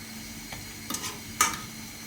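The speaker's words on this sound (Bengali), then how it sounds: "খুন্তির সাহায্যে ভালোভাবে নেড়ে চেড়ে দিচ্ছি" Spatula stirring duck meat in a hot pan on a stove, with a soft sizzle underneath and a few scraping strokes, two of them sharper and louder, spaced out over a couple of seconds.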